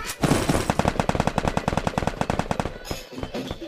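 Rapid automatic gunfire from a weapon in a car-themed shooting video game, a fast steady burst of about twenty loud close shots, ending with a short tail of game noise.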